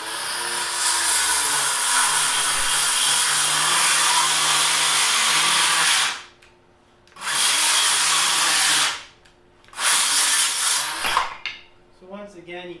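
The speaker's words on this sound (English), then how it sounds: "the last thing I'd really like to try out here is another bevel cut" A Hyper Tough 20V cordless circular saw fitted with a Diablo blade cuts a bevel, its loud high whine running for several seconds, stopping, then starting again in two more bursts before winding down.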